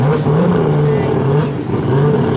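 A racing Mazda 6 engine drones steadily and loudly, its pitch holding fairly level with slight rises, close and continuous with no speech over it.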